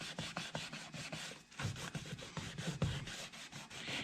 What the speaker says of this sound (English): take just a piece of paper towel, and I'm gonna rub it down and get all the oil off of it